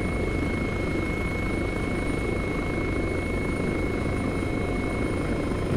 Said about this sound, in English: Fucking Hellcat is the best helicopter to date.